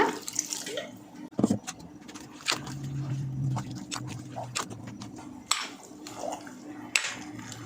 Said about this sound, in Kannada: ನೀರು ಕೂಡ ಹಾಕ್ತಾಯಿದ್ದೀನಿ ಸ್ವಲ್ಪ.